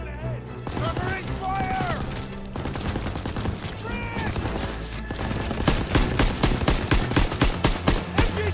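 Gunfire in the World War II video game Call of Duty WW2, sustained and busy, with rapid machine-gun bursts growing denser and sharper toward the end, mixed with battlefield noise and shouted voices.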